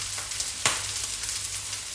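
Vietnamese rice noodles sizzle in a hot pan as MSG goes in and they are stir-fried. The frying hiss is steady and close, with one brief scrape or clatter of stirring partway through.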